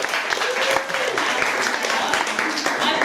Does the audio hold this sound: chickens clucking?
no